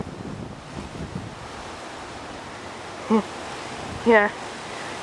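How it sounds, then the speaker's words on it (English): Storm wind roars steadily across the front yard, bending palm trees, with a constant rushing gust noise and a brief spoken word near the end. "those palm trees are like blowing towards that way."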